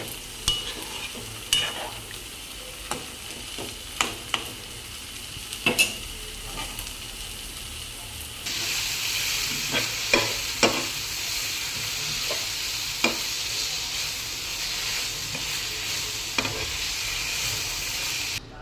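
Gongura chicken curry simmers in a pot with a cup of water added, making a steady sizzle and bubble. Repeated scrapes and clacks of a stirring spoon sound close by, and the bubbling grows louder partway through.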